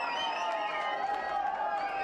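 Stadium crowd lifts with a sustained roar of cheering after a header goal in a women's under-17 football match, Bhutan against Nepal, steady and moderately distant, with commentary running over it.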